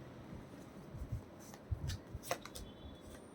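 Tarot cards being shuffled at close range, soft riffling and rubbing bursts with a few crisp flicks, quiet and with no talking.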